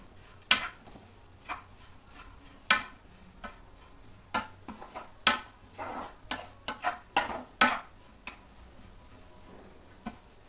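Coconut and jaggery stir-fried together in a pan for modak filling, with a sequence of scattered scraping and tapping strokes from a spatula over a faint sizzle, close by and with no talking.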